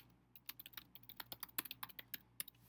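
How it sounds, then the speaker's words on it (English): Fingers type on a computer keyboard with quick, irregular keystroke clicks, some in short bursts, close and fairly quiet, with no voices. "I would begin by typing in a title for your document."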